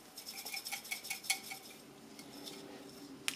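Homemade celery salt being stirred in a bowl, giving faint, light clinks of a utensil against the dish in an irregular rhythm, with no talking.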